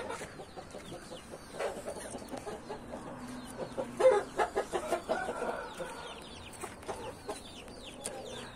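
Chickens cluck in a backyard flock, a steady scatter of short calls and squawks with a louder burst of clucking near the middle, fairly close and without talk.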